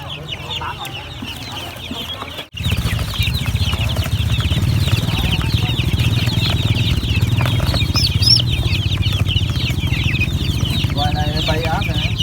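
Vaccinated chickens for sale at a Vietnamese rural market cluck loudly and continuously up close, with people talking nearby throughout.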